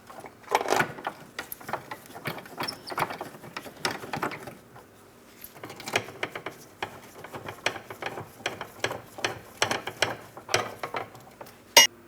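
A ratchet tightens the subframe mounting bolts on a 2004–2008 Pontiac Grand Prix, giving quick bursts of close, clicking strokes separated by short pauses.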